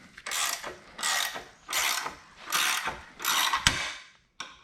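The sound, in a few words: wrench turning to remove a subframe bushing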